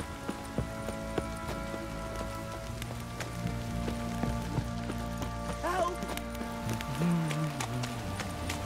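Steady rain patters on surfaces in The Witcher 3 game world, a constant close hiss with faint hoof clops and scattered game sounds mixed in, and a voice briefly calls out near the end.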